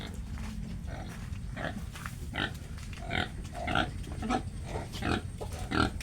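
Pigs on a hog farm grunt and snuffle in repeated short bursts over a steady low barnyard rumble, fairly close and with no one speaking.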